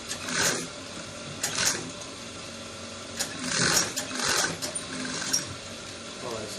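Sewing machine topstitching a trouser front pocket, running in several short bursts separated by pauses, moderately close, with some faint background noise between runs.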